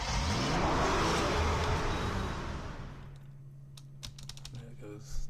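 A car drives in an Unreal Development Kit game: a loud, steady broadband roar of engine and motion fades after about three seconds, then gives way to scattered sharp clicks that sound like computer keys.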